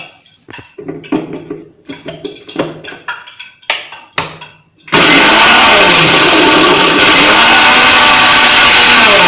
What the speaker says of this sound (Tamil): இதை மிக்சியில் வச்சு ஒரு லைட்டாக பொடி அரைக்கிடலாம்